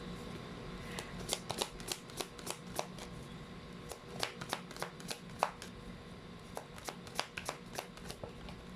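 Tarot cards are shuffled by hand in a quiet room, producing a series of crisp, quick riffling snaps, some clustered and some spaced apart, faint and close with no talking.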